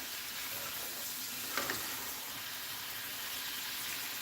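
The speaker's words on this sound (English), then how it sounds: "the shrimp cooking." Shrimp sizzling in a pan with oil and garlic, a steady quiet frying hiss throughout with a brief stir or clink in the middle, no talk.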